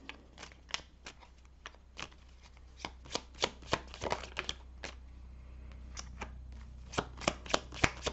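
Close, soft shuffling of tarot cards before a draw, with irregular crisp slaps and riffles over a low steady hum and no speech.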